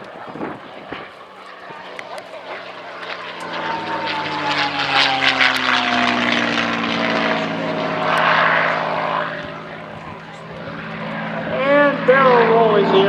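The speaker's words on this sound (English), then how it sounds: "the whistle of this P-51 is absolutely dynamic." A North American P-51D Mustang, Quick Silver, roars past at an air show, its propeller engine swelling and fading with a rising and falling radiator whistle, a commentator's voice running over it.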